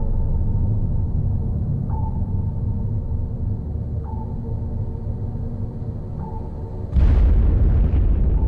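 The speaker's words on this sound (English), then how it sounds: "Only one depth charge went off nearby." A depth charge explodes nearby, heard from inside the submarine U-480: a steady low hull rumble with a few evenly spaced sonar pings, then one sudden loud, broad blast near the end that keeps rumbling.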